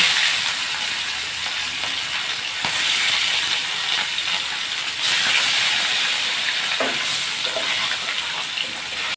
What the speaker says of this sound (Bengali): একইভাবে আমি বাকি মাছগুলো ভেজে নেব